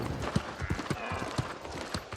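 Horse hooves clip-clop at a steady trot in the fantasy MMO New World, close and clear, with soft game ambience in the background and no one talking.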